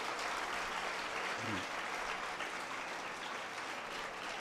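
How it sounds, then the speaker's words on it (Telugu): Audience applause at the Hindu Spiritual & Service Fair in Hyderabad: dense, steady clapping from a crowd that fills the whole stretch at an even level. "మన అదృష్టానికి మనం చప్పట్లు కొట్టుకోవాలి"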